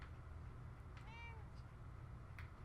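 A single short cat meow from Fallout 4 rises and falls clearly over a low, constant background rumble of game ambience.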